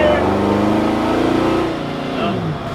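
A Divco milk truck fitted with a Ford V8 pulls away in second gear, the engine note climbing strongly and loudly before easing off and dropping in pitch near the end.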